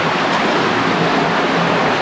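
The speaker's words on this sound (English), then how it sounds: "I think this is the water that I was hearing, because it's not too far from here." Free-flowing water rushes out of a cave in a loud, continuous, broadband roar, steady throughout with no voices over it.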